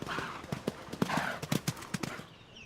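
Horse hooves clip-clop at the Guy de Marais Centre, a smaller racetrack of the Mauritian Turf Club in Floréal, Mauritius, with a steady, fairly close rhythm of sharp hoof strikes over faint background noise.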